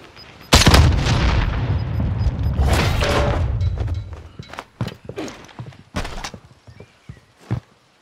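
Sharp pistol shots in the Warzone video game, several close loud cracks in a burst early on, then scattered sharp reports and thuds trailing off, with no talking.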